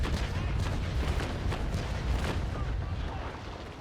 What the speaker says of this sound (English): Shot chain and then switched to cannon.